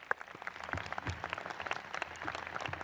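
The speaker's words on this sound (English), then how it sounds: "Please clap for the Board of Trustees." Vassar College commencement crowd applauding, a dense, steady wash of many hands clapping at moderate volume with a few sharper individual claps standing out near the front.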